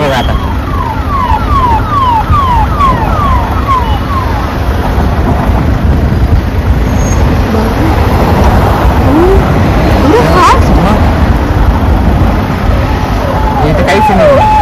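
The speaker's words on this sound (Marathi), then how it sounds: "पायलट गाडी गेली. पहिली पायलट गेली." The pilot car of a convoy speeds along a busy street-market road in Nashik with its siren wailing in rapid repeating sweeps, loud and close, over traffic noise while people talk nearby.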